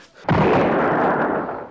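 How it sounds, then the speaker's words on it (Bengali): A single loud gunshot in a drama scene bursts out abruptly after a brief quiet moment, then its broad blast and echo hold steady and slowly fade. "আরেকটা গুলি করবে?"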